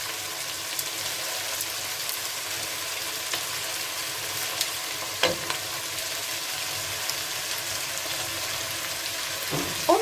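Bolognese sauce sizzles and fries steadily in a pan while being stirred, a constant close crackle with occasional scraping strokes of the spoon.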